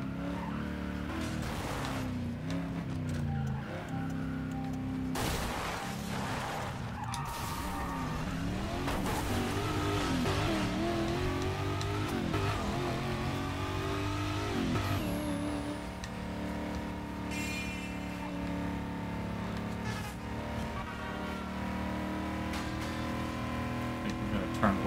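A heavy car's engine revs and roars in the racing game Burnout Paradise, loud and continuous throughout, with shifting pitch, tire squeals and skids, and occasional impacts.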